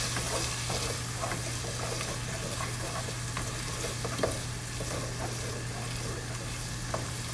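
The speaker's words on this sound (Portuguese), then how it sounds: "E agora vamos deixar dar uma nova refogada." Risotto with sun-dried tomatoes and their oil sautéing in a pan, a steady close sizzle with scattered stirring scrapes throughout and no talking.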